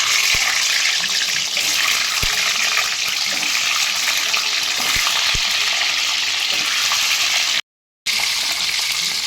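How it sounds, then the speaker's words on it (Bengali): Cut boiled eggs fry in a mix of ghee and oil with a loud, constant sizzle and occasional sharp clicks of a utensil, broken by a brief silent gap near the end. "লবণ মাখিয়ে এবারে ওই তেলের আর ঘি আর তেলের মধ্যে ভেজে তুলে নেব।"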